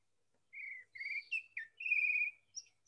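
Grey trembler, a Caribbean songbird with a long downcurved beak, sings a clear, close sequence of short whistled phrases with brief gaps, rising and falling in pitch against a quiet background.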